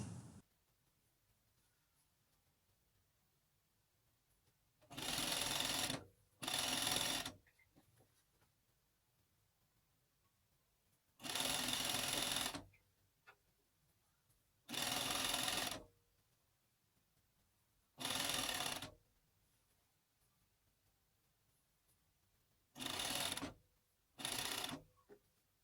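A Juki MO 6714 D overlocker stitches up a dress hem, running in about seven short, loud bursts separated by quiet pauses.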